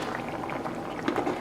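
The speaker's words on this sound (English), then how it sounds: "I usually keep this cooking until the noodles are finished boiling" Noodles boiling in a cooking pot, a steady close bubbling and simmering wash of water with no talk.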